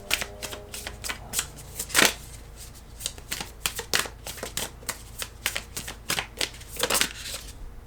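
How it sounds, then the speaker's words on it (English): Tarot cards are shuffled and pulled out close up, giving quick irregular riffling flicks and snaps that repeat for several seconds without speech. "Hold on, I'm just going to pull out all the cards."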